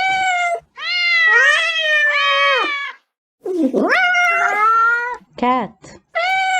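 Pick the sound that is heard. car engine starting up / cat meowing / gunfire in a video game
cat meowing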